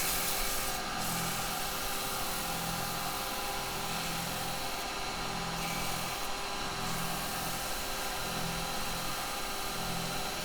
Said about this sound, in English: Right, okay, a little bit of sanding.